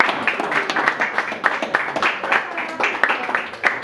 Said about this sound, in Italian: Prego, un applauso, signori.